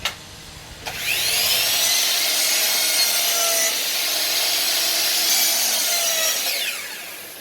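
A power saw cuts an inside miter through a piece of wooden base trim, the motor spinning up and the blade biting wood in one loud, sustained whine before winding down.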